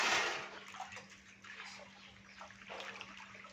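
Water splashes and pours onto soaking wheat grains, a steady wet rush that is loudest at the start and then continues more gently.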